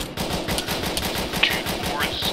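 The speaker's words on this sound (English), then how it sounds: "just keep firing at whatever shooting at us" Rapid automatic gunfire rattles in the ARMA 3 military shooter game: a dense, continuous burst of sharp repeated shots, loud and close, with overlapping reports filling the whole stretch.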